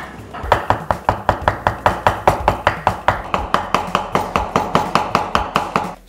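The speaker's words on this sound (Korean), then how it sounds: "먼저 뼈와 고기를 분리하도록 하겠습니다" A knife chops beef rib meat away from the bone on a cutting board, about two dozen sharp, loud, close knocks in a fast, steady rhythm with nothing else heard.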